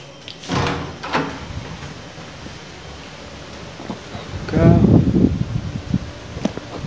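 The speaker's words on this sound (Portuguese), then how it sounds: "Tive que correr aqui, senão a porta vai bater." A hotel room door at a countryside resort swings and bangs shut, a few knocks and thumps followed by a louder rattling closure, with a person talking nearby.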